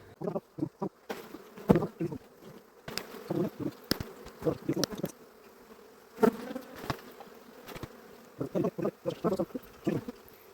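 Honey bees buzz in uneven bursts, droning close by and fading in and out, with short quiet gaps between the louder passes.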